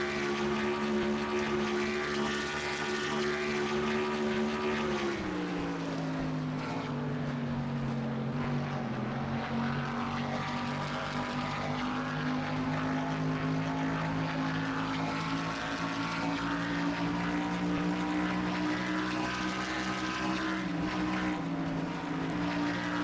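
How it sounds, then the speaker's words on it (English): A race car engine in a NASCAR racing video game, heard from the roof cam of the Miller Genuine Draft Pontiac, drones steadily with a sustained tonal whine. The pitch dips and settles through corners, continuous and without speech. "Let's see how Dylan Young drives this racetrack here as we go for the roof cam"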